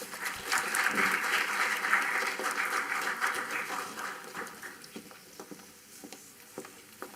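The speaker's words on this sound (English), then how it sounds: "Please welcome with a huge round of applause, Ms. Sangeeta Rai." A crowd at a college entrepreneurship summit's inaugural session applauds to welcome a speaker, a loud, dense wash of clapping that gradually thins into scattered claps as it fades.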